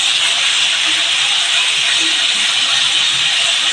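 Chicken frying in hot oil in a kadai gives a loud, dense, continuous hiss that holds steady from start to finish without pause.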